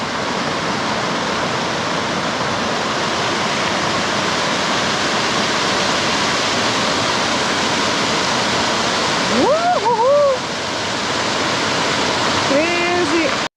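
Water rushes loudly and continuously at a waterfall near Chikmagalur, a dense, close roar that fills the whole stretch, with a voice briefly speaking over it near the end.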